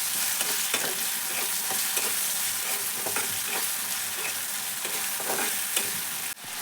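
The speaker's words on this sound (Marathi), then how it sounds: "आता त्यात कांदा आणि खोबरं वाटण घालू 1 चम्मच. ते पण परतून घेऊ." Onion and ground coconut paste sautéing in oil in a pan, with a continuous close sizzle and rhythmic scraping stirs of a spoon throughout.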